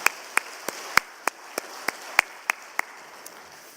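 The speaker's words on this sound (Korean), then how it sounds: "다시 한번 우리 찬양을 받으시기에 합당하신 하나님께 영광의 박수 올리겠습니다." Crisp, evenly spaced claps from a church congregation at a Wednesday worship service, about ten beats at a steady rhythm, fairly close, over a quiet room tone, with no talk.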